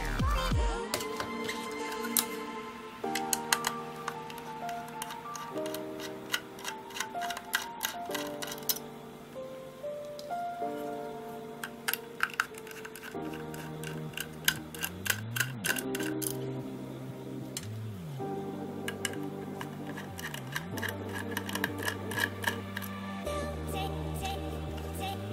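Small metal screws are unscrewed from a solid state drive case: faint repeated clicks and ticks of a screwdriver working close by at low volume, alongside a steady tonal hum, with no talking.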